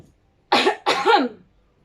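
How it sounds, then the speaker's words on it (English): Two quick, close coughs in a row, sharp and breathy, with silence around them. "there was a cough from behind him."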